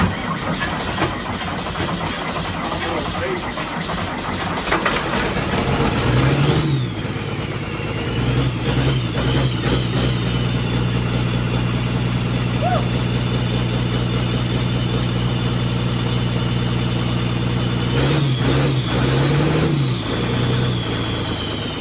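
A Ford 8700 tractor fitted with a 270hp engine fires up and revs hard, then settles into a loud, steady idle, with a second burst of revving near the end.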